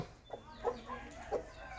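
A chicken clucking faintly a few times in short, soft bursts, quiet and slightly distant, with no one speaking.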